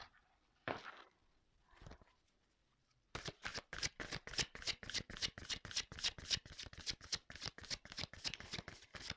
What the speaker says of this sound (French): On va prendre d'autres cartes.